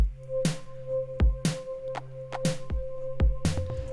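Simple electro drum beat built from toms and a clap with no hi-hats, thumping low hits and sharp claps repeating in a steady rhythm of about one strike every half second, alone.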